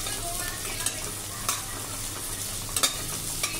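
A bay leaf dropped into hot oil in a pan for soya pulao sizzles steadily up close, with a few sharp clinks and scrapes of a spoon stirring over the continuous frying hiss.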